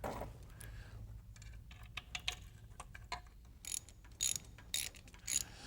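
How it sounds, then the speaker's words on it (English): A ratchet clicks in short bursts while intake manifold bolts are tightened on a 502 GM crate engine bound for a 1971 Chevelle, the quick pawl ticks coming in separate spurts against a quiet shop background. "I've tightened up the intake from the center out using a crisscross pattern"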